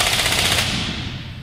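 An M3M 12.7 mm heavy machine gun fired as a helicopter door gun in an NH90 simulator, heard as a loud continuous rapid burst of rounds over steady background rumble, with no talk.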